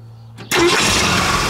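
A 1968 Ford Mustang with a factory 428 Cobra Jet V8 cranks after a short quiet moment and catches abruptly, settling into a loud, steady running rumble.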